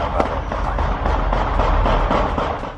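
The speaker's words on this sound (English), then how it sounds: "The locals have a unique way of celebrating the new year by firing guns into the sky" Celebratory gunfire into the night sky on New Year's Eve on Detroit's west side, a dense continuous crackle of overlapping shots and thuds, loud and sustained throughout.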